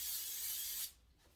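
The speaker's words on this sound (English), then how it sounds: "I'm going to spray my skillet with non-stick spray" Non-stick cooking spray hissing from a can into a well-seasoned cast iron skillet, a short steady close spray that cuts off abruptly after under a second.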